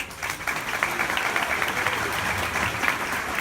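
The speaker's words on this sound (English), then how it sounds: "So she deserves a round of applause" An audience at an endurance-ride awards ceremony gives a development director a round of applause, sustained, full-bodied clapping from a sizeable crowd throughout, without speech.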